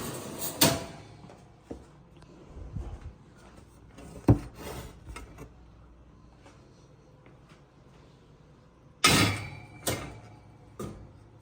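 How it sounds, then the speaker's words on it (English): An oven drawer is pulled out in a home kitchen, with several sharp clunks and sliding knocks spread across the clip amid quieter rattles and pauses. "Let me get the drawer pulled out."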